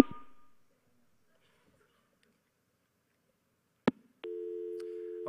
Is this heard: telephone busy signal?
yes